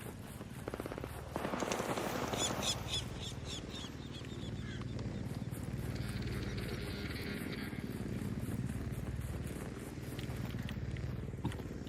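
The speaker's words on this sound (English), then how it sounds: "where's the big Amazon drone noise coming from?" Steady mechanical drone hum from a large delivery-style drone in the video game Arc Raiders, loud and continuous throughout with buzzing overtones, mixed with bursts of game effects and brief faint voices.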